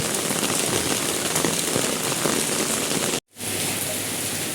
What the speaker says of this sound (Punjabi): ਤੇ ਆ ਦੇਖੋ ਗਾਇਸ ਬਾਰਿਸ਼ ਕਿੰਨੀ ਹੋ ਗਈ